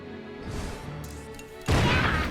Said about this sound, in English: Big cannon.